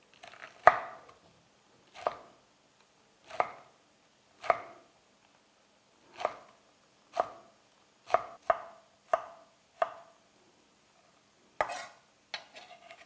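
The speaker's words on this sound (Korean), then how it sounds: "이 양파 한 반 개 정도를 곱게 채를 썰어서" A knife chops half an onion into thin strips on a cutting board, making about a dozen sharp, close knocks at an uneven, unhurried pace with quiet gaps between strokes.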